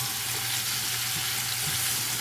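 Onions softening in butter in a pan, broken up and stirred with a wooden spatula while making Philly cheesesteak stuffed peppers; a steady, soft sizzle runs throughout with faint scraping, no talk.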